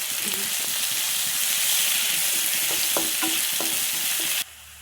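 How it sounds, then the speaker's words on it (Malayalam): Onion and tomato sauté in a pan for a chicken curry, a steady close sizzle with scraping stir strokes and clicks of the spoon against the pan, ending abruptly. "ഇനി നമുക്ക് നന്നായിട്ട് വഴറ്റിയെടുക്കാം"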